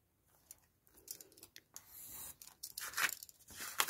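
Scissors cut through paper for a craft journal pocket, giving close, crisp snips and papery rustles that build in loudness, with no speech.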